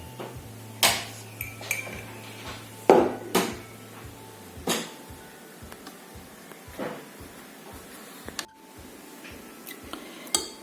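Seasonings being stirred in a cooking pot for a braised curry chicken with coconut milk, a run of metallic spoon knocks and scrapes against the pot at an irregular pace, with a low hum running through the first half.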